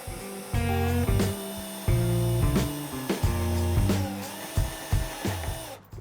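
A power drill whines in short bursts, starting and stopping repeatedly as it bores into a wooden table base, close and loud.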